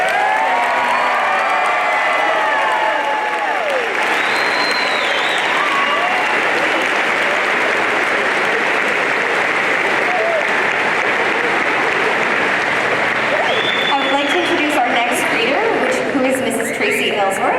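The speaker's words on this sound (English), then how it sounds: "If you'd like to clap for these wonderful graduates, please do." An audience applauds graduates at the Innisdale 2022 graduation ceremony: loud, sustained clapping from a large crowd that holds at a constant level throughout, with a few faint whoops near the end.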